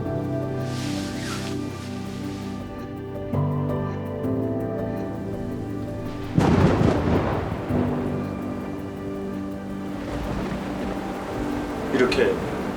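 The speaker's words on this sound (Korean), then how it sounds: "이렇게 세찬 바람이나 심한 비가 내리면 반드시 일어나야 합니다" A thunderstorm with heavy rain and strong wind, with steady rain hiss under a background tone and low thunder rumbles swelling in, loudest about midway, ending in a faint crackle.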